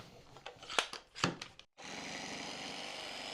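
Canadian Tire Maximum 20V reciprocating saw cutting into nailed wood, a few rough rasping bursts with brief gaps, then a short drop to silence before a steady motor whine continues, fairly quiet overall.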